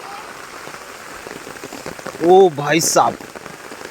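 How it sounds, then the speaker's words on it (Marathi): Heavy monsoon rain pours steadily during a trek in Sanjay Gandhi National Park, Borivali, a constant wash of falling water with a man's brief loud call partway through. "एक नंबर पाऊस पडतोय"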